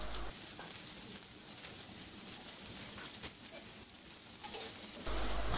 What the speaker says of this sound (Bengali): পেঁয়াজগুলো আমি হালকা করে ভেজে নেব।